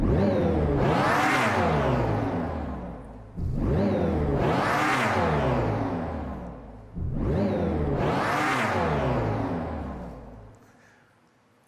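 A Dodge Charger Daytona SRT concept electric car sounds off in three loud, sweeping rising swells, each building to a roaring peak before dropping away, the last one fading out.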